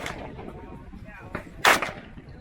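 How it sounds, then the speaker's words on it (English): Two gunshots fired into bushes on a range at SHOT Show 2019, a softer report near 1.3 seconds followed by a sharper, louder crack, heard close amid outdoor background noise. "just shoot at one of the bushes for like the first 2 rounds"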